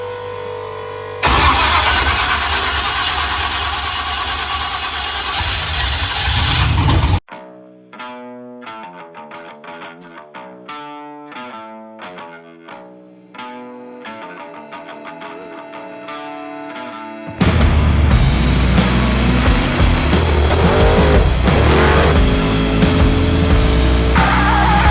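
LS-swapped Chevy OBS truck engine: a loud distorted blast, then a rapid series of starter-like pulses and sputters, before the V8 catches and roars into loud, raw revving at the end.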